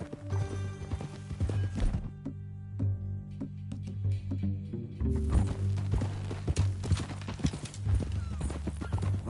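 Horse hooves clip-clopping at a walk in Red Dead Redemption 2, a close, repeated hollow knocking rhythm with a brief pause midway, alone without speech.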